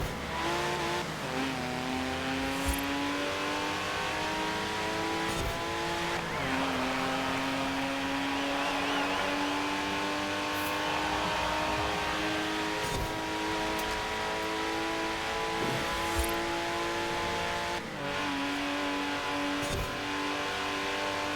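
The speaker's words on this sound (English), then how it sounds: "I'm fully revving the engine." A Porsche engine in the racing game Forza Horizon 4 revs hard and loud, its pitch climbing in long sweeps broken by a few gear changes, with faint tire noise and no talk.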